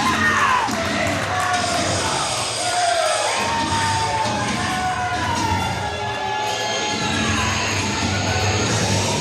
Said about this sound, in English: she has the Nashville crowd supporting her